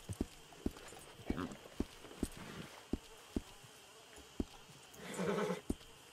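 Horse hooves clip-clop in Red Dead Redemption 2, faint and evenly spaced at a slow walking pace, with a brief murmur of other sound rising near the end.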